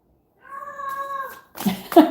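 A female cat in heat lets out a loud, drawn-out tonal meow lasting about a second, then a short pause and a harsher, noisier yowl close to the microphone, with no talk over it.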